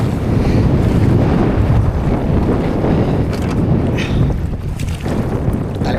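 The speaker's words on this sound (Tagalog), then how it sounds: "Laki ng alon." Heavy surging Pacific Ocean water and wind buffeting the microphone, big waves crashing against a boat in a loud, continuous roar.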